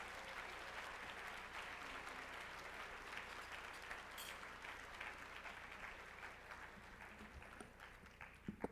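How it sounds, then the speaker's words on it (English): A conference audience at a plenary session applauds steadily throughout, a broad even wash of clapping heard from a distance that thins toward the end. "Let's receive her with a hearty applause."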